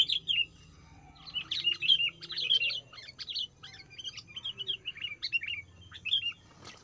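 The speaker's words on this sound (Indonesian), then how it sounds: "Ini udah dekat sekali kutilang liarnya" A sooty-headed bulbul calls repeatedly nearby, bright chirpy phrases tumbling one after another over a low background hum.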